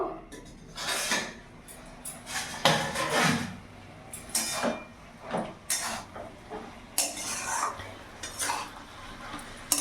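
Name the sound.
lid taken off cooking pot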